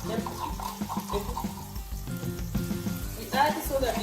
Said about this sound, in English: as the onions are cooking, we need to add the ginger and garlic that we have prepared, so that it cooks with the onion